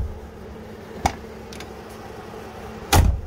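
A 1984 Mercury Cougar door shutting: a faint click, then a solid, close, low thunk near the end over a quiet background hum.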